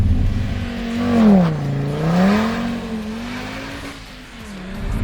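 An Audi TT RS with four-wheel drive launching hard and accelerating, its engine note climbing and dipping through gear changes, loud and close with no talking.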